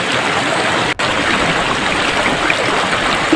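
Water in a creek flows and babbles steadily, with a constant close rushing wash and one brief dropout partway through.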